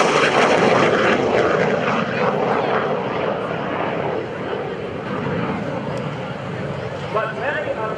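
A MiG-17 jet fighter roars past in a flyby at the 2011 AirPower Over Hampton Roads air show, a loud broad rushing engine noise that fills the whole span and slowly eases.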